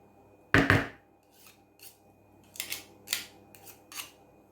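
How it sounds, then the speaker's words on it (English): A spoon mashes and scrapes a baked jacket potato, giving one loud close clunk followed by several lighter, spaced scraping knocks against the skin in a quiet kitchen. "So now giving that a good mash, just scrape off the potato."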